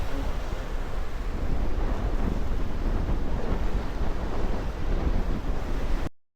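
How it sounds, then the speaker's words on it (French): Strong wind buffets the microphone on a hotel beach in Jamaica, a loud continuous roar that merges with surf for several seconds before cutting off abruptly. "Il y a du vent"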